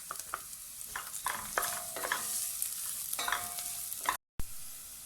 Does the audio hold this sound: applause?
no